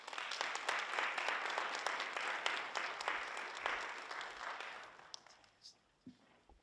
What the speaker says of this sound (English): Give him another round of applause for his great leadership.